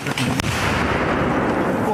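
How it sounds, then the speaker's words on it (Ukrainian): A loud, dense roar of explosions and gunfire in a remote forest in northern Ukraine, with a couple of sharp cracks near the start, rumbling continuously. "Звідусіль лунають потужні вибухи."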